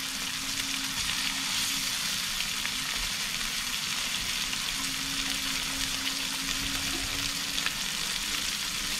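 Whiting fish fries in a hot pan with herbs, giving a steady, close sizzle with a low hum beneath it. The sound runs evenly the whole time, with no talking.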